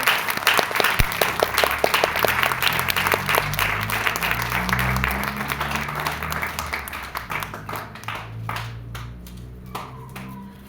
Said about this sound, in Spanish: fuerte las palmas al Señor